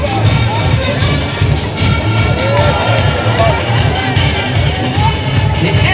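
A crowd at a Toro Mousse bull game run by the Manade du Gardon in Saint-Chaptes claps and cheers continuously, with whoops and yells over a dense hubbub and a PA voice mixed in.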